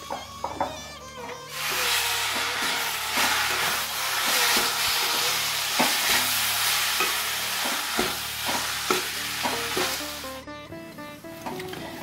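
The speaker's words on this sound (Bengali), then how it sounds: "এবার আমি এগুলো একসঙ্গে ভেজে নিচ্ছি" Ingredients, including date pulp, sizzle loudly in hot ghee for several seconds while a utensil scrapes and taps the pan in an uneven rhythm.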